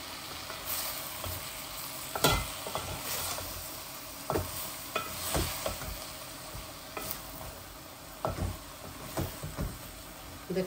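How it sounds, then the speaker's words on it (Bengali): Chicken mince is stirred and slowly cooked down bhuna-style in a slow cooker, soft sizzling with repeated scraping strokes of a spoon against the pot, close and moderately quiet, no speech. "এগুলো এইভাবে স্লো কুকারের মধ্যে আস্তে আস্তে আমি ভুনা করব চিকেনের কিমাটা"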